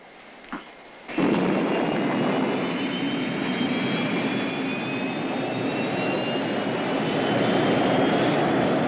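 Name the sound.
spacecraft engine ignition and takeoff, TV sound effect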